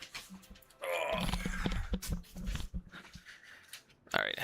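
Dogs kept in a back room give a few quiet growls, grunts and whimpers, brief and intermittent, with a person talking nearby.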